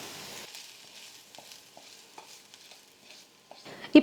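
Fried onion tempering being folded into idli batter with a spoon, heard as soft, sparse wet stirring and scraping, quiet and close, ending in a louder knock.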